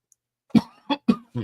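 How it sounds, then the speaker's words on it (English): Four sharp, close coughs in quick succession, each a short harsh burst, the last slightly longer and rougher. "As I cough my way"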